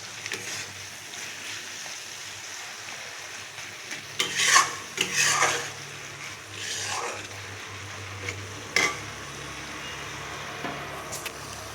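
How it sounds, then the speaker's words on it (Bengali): Bitter gourd and potato sautéed in a pan, a spatula scraping and stirring in a few distinct bursts over a low steady sizzle, close and fairly quiet. "আর একটু কষিয়ে নেব।"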